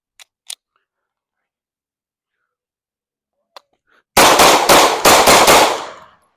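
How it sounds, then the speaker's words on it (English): Rapid string of Glock 26 pistol shots fired at steel targets, loud sharp cracks in quick bursts after a few quiet clicks, with the reports ringing out and fading at the end. "I'm gonna go for the 26 one more time. I'm just go for the steel targets as quick as I could."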